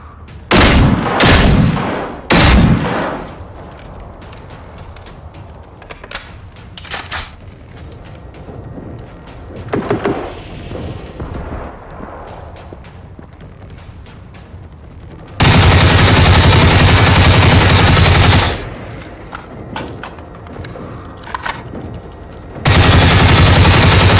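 Gunfire in the video game Generation Zero: a few sharp close shots at the start, scattered quieter pops, then two long loud bursts of sustained automatic fire near the end.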